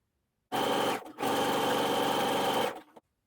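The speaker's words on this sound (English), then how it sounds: "So change your machine to zigzag and zigzag all the way around your bag." A sewing machine running steady zigzag stitches around the edge of a fabric tote bag: two continuous loud whirring bursts with a brief pause between, close and alone.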